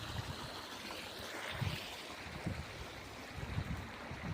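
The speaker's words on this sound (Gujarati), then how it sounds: "તો આ પાણી તો ચાલુ જ છે મિત્રો" Water runs steadily into a farm water tank in an open field, a continuous rushing, splashing wash with low gurgling pulses, moderately close and without talk.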